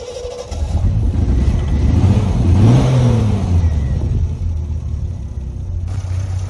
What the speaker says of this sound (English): get yourself into the car and start her up